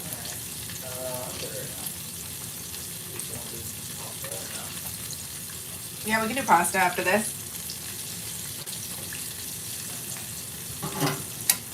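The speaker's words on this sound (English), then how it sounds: "I'm making deep fried artichoke hearts." Artichoke hearts deep frying in oil, a steady hiss and crackle running underneath throughout, with occasional clatter and a person speaking briefly over it.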